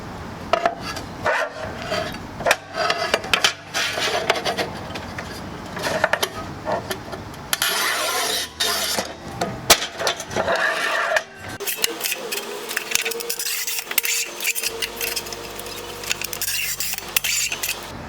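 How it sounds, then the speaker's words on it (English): Porcelain plank tile, 6 by 24 inches, being rip cut on a manual tile cutter: a scraping, scratching scoring run with clinks and knocks of tile and tool, close and fairly loud, ending in sharper clatter, with no talk. "Let's rip cut this porcelain plank."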